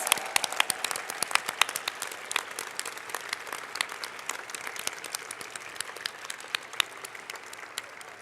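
Applause at a student closing ceremony for the event organizers, a fairly soft but continuous patter of many hands with distinct individual claps, lasting about eight seconds without talk.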